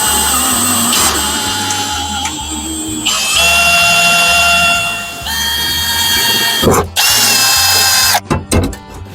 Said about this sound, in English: Now we're just going to zip these in.